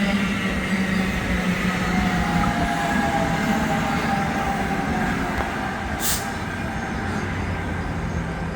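An 8-car multi-level NJ Transit train rumbles through Metropark station on the Northeast Corridor, a loud steady roar of wheels and cars passing close by, with a brief high squeal partway through.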